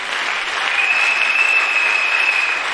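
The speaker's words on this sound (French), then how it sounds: "acclamons très fort pour les femmes bien-aimées." An audience at a women's church convention applauding, loud sustained clapping from a crowd with a faint whistle-like tone riding over it.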